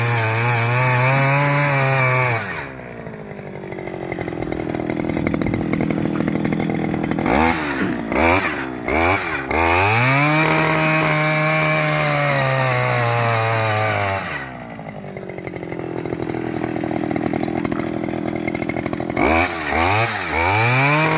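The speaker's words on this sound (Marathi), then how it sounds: "आता दुपारने आम्हाला मशीन दिली मशीन काल खड्डा काढून" A motorized machine digs a planting pit in soil, its engine running loud and steady with revving swells and short breaks. No one speaks.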